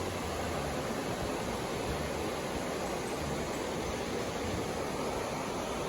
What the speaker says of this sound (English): Came back to that place that waterfall is.